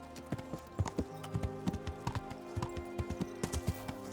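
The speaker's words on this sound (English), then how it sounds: "Hey, I'm riding my horse here." Horse hooves clip-clop steadily during riding in a video game, a brisk irregular series of hard taps over a low droning game soundtrack, with a brief whinny-like tone.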